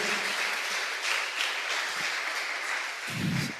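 A church congregation applauds, a dense, fairly soft patter of many hands that holds steady for a few seconds, with a brief low rumble near the end.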